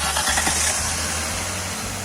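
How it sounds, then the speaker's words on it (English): A Jaguar engine with a suspect pulley or coolant pump bearing runs steadily at idle after starting, a close, even mechanical drone with a faint rhythmic knock underneath. "So I started the engine to let you hear all the bearings sound one by one."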